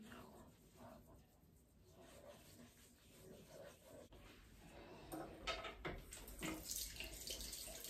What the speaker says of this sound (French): Et bien sûr, on rince à l'eau tiède.